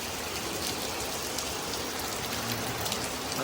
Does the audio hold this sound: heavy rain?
yes